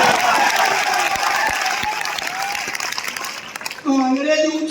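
Dense, crackling audience applause fills a Hindi kavi sammelan poetry gathering and holds steady for nearly four seconds, then eases as a voice takes over.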